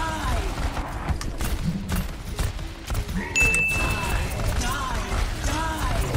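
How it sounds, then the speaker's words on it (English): Reaper's regular shotgun shots in the Overwatch video game, two or three punchy blasts in a busy game mix over continuous background noise. "So with Reaper, with regular shots, it's about this."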